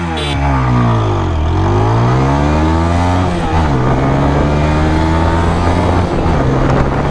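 A 160cc motorcycle, either a Bajaj Pulsar N160 or TVS Apache 160 4V, pulls away from a start in first gear and then through rising gear shifts, its engine note climbing loud and close before dropping and climbing again.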